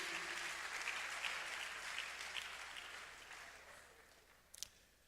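A convocation ceremony audience claps, a dense wash of applause that starts full and gradually thins and fades, ending with a couple of sharp louder claps near the close.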